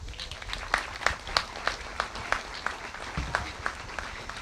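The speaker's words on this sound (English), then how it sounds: "we have to give her a round of applause" A dinner audience gives a round of applause: scattered, fairly faint rhythmic clapping from a modest crowd, steady for a few seconds.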